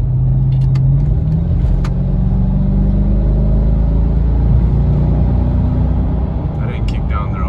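Tuned Mercedes ML55 AMG V8 pulling at roughly half throttle, a loud, close cabin rumble whose pitch climbs steadily through the gear before easing, with a person talking over it.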